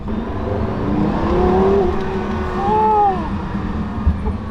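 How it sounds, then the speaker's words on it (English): A Porsche Carrera GT engine revs in smooth rising and falling sweeps, a loud mechanical whir with a pitch that climbs and dips twice. "It's not even going fast, but the engine just revving."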